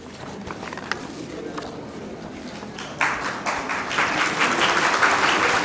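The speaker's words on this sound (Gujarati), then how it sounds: "આ તાળીઓને મારે પોઝિટિવ સમજવાની છે" Seminar audience clapping at a university psychology seminar on stress management, steady applause from a crowd in a hall that swells louder and denser halfway through, with faint talk underneath.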